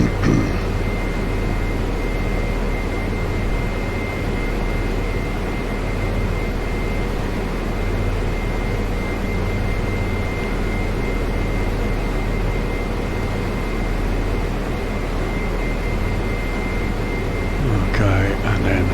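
Helicopter flying low over the runway at Ibiza Airport, a steady loud broadband engine and rotor roar with a constant whine, continuous and close throughout.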